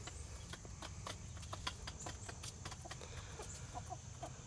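A vocal hen, one of a backyard flock of laying hens that produce double-yolk eggs, clucks in a series of short, sharp, repeated calls after laying. The calls are faint and stand out over a low, steady background hum.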